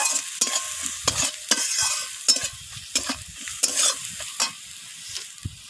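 Spices and cumin powder being stir-fried with onions in a pan while cooking a fish-head cabbage curry, with close, steady frying sizzle and repeated scraping stirs of a utensil throughout, no talking.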